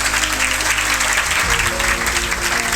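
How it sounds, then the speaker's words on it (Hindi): Loud, steady applause from a gathered audience honoring a laborer's son's selection in the SSC CGL exam, a dense wash of clapping with a low rumble underneath. "ताली बजाओ जोरदार"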